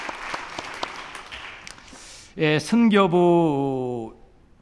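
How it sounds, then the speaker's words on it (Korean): A church congregation at a Sunday afternoon ministry dedication service gives scattered, moderate clapping to the intercessory prayer team. A loud voice then takes over and drowns out the fading applause. "우리 박수로 격려하겠습니다"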